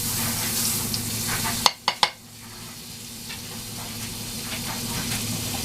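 Butter hits a hot, smoking frying pan already filmed with oil, giving a couple of sharp clanks followed by a soft, steady sizzle that settles low and continuous.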